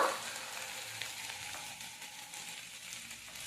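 Ground turmeric, salt, coriander, chili and cumin powders sizzle steadily in hot oil in a pan for a crisp singara filling, a continuous close frying hiss with no talking.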